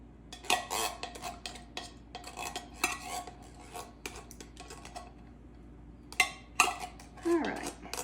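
A spoon scrapes canned low-sodium cream of chicken soup from the can into a casserole dish, with repeated close metallic clinks and scrapes in quick irregular bursts and a faint voice in the background.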